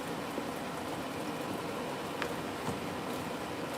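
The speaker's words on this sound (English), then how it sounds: "I'll be frying these donuts very soon." Steady, dense sizzle of mahamri (Swahili coconut doughnuts) deep frying in hot oil, a continuous crackling hiss with a few faint pops, no voices.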